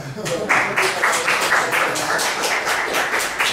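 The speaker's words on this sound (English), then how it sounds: "we should clap for them" A small audience at a Go programming workshop for beginners claps steadily, a close, even patter of hand claps that holds for a few seconds.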